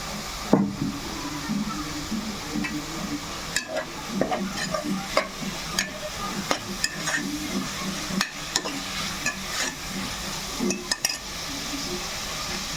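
Ghee sizzles in a pan while vegetable pulao cooks, with steady frying hiss broken by frequent scraping and clinking of a stirring spoon against the pot, and a voice briefly present underneath.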